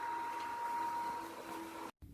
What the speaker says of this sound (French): Le ventilateur il fait un petit peu de bruit mais ça va.